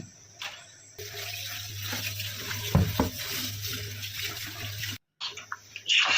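Basmati rice is washed in water, giving a steady splashing and swishing with a brief clatter in the middle and a short pause near the end.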